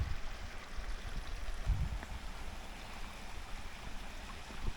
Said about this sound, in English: Some water running down there.